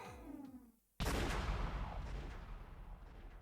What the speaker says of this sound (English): there was a loud bang from the gun. Not in the sense that it fired. It exploded.